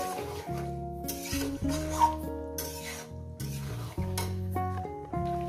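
Mutton curry fried and stirred over medium heat in a pan, with soft sizzling and intermittent spatula scrapes under prominent background music.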